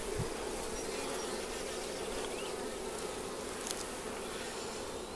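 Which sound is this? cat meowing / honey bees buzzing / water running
honey bees buzzing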